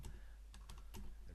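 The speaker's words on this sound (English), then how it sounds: "So I'm going to just type in here message from" Keys clatter faintly on a computer keyboard, a handful of soft, quick taps over a low background hum.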